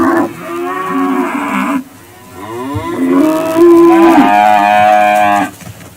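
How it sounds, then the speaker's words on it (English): Cattle moo loudly and close by while grazing out on grass, several long drawn-out calls following one another with short gaps between them. "Watching my cows out on the grass eating."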